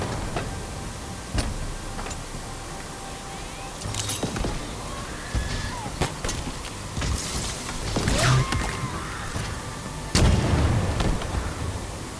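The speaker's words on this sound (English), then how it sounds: "as soon as he sees me, he's firing a grenade" Combat in the video game Halo Infinite as an enemy fires a grenade, sharp blasts and clattering impacts scattered among game noise and a steady background hum.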